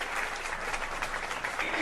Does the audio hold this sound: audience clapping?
yes